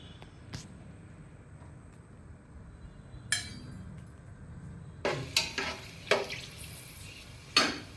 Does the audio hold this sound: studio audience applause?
no